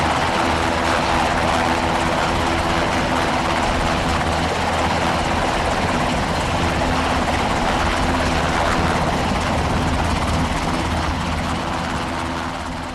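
A Black Hawk helicopter drones steadily and loudly throughout, with a heavy rotor thrum and engine roar that never lets up.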